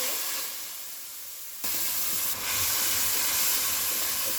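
Tomato paste hits hot oil in a pan of onion-free, garlic-free mixed vegetable curry, setting off a sudden loud hiss that swells and keeps sizzling steadily close by.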